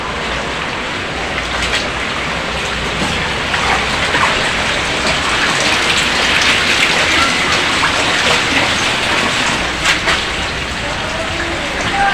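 Heavy typhoon rain pours steadily on surfaces for the whole stretch, a dense, loud, continuous hiss with gusts of water and no pauses.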